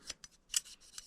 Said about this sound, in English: I kind of cut these down to smaller pieces because most of the time I got to cut these little fabric cloths anyways